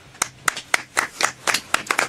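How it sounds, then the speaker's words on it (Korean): A single person clapping in a radio studio, about nine close, sharp hand claps at a brisk, slightly uneven rhythm with short pauses between them. "본인이 박수를 주도하네요"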